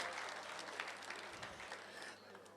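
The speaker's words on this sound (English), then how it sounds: "Please, a hands of applause." An audience at an Igbo heritage lecture and awards ceremony in a Pretoria hotel claps steadily, a dense wash of applause that carries through the whole moment and eases slightly at the end.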